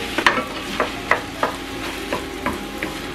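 Minced meat and vegetables for dry curry stir-fried over medium heat, with a steady sizzle under regular spatula scrapes and knocks against the pan about every third of a second to half second, close and clear.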